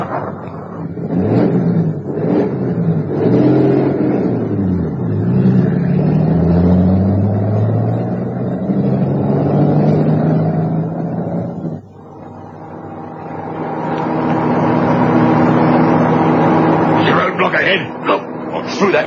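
A car engine runs and revs, rising and falling as the vehicle pulls away close by, with a steady motor drone under excited spoken dialogue from an old radio drama.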